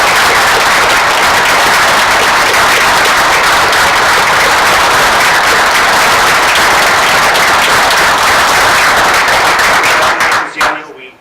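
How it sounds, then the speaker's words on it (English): Loud, dense applause fills a borough council meeting room for about ten seconds, then tapers off abruptly near the end. "Let's give this again a round of applause."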